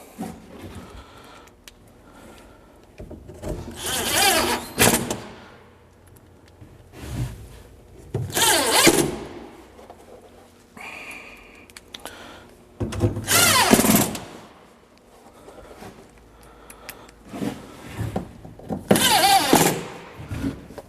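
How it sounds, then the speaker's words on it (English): A power drill drives screws into the flange of a Clarion bathtub during installation, sounding in several loud whirring bursts of a few seconds each with quieter handling noise between them. "And I put a couple screws up in the back flange."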